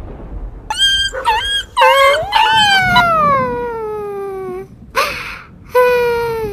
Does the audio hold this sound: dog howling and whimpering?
yes